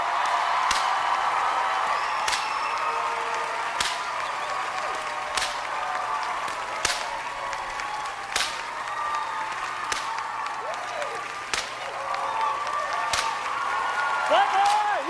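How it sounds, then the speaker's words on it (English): A television talent show audience applauds continuously with cheers and whoops, the crowd noise steady and fairly loud, with a host's voice briefly audible over it. "give me a lot of applause here"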